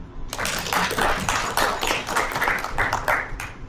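An audience claps by hand at an event, a dense run of brisk, overlapping claps from a small crowd, fairly loud and steady for a few seconds before easing off.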